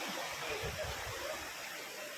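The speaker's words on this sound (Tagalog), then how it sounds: "malakas yung agos ng tubig" Strong current of sea water rushing along the coast at Busselton, Western Australia, a faint continuous broadband wash with a low murmur underneath.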